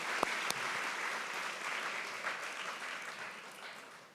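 Church congregation at a Christmas celebration applauding, a dense, sustained wash of clapping from many hands in a large room, opening with a couple of sharp claps and slowly fading.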